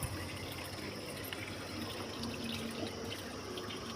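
Water running steadily from a tap while something is washed, a continuous faint splashing flow without pauses.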